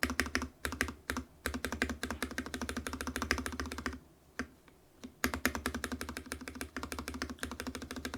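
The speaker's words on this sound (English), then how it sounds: "So let's try left shift. There's a little bit of clack on the left side here." Keystrokes rattle quickly on a Varmilo Miya Pro keyboard with Cherry MX Red switches, a close, dense run of clacky taps with a brief pause before the typing resumes.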